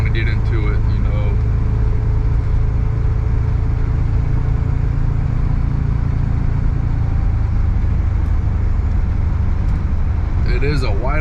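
A white 1977 Pontiac Trans Am engine warms up at a steady low idle with light throttle, a continuous rumble running under a voice talking.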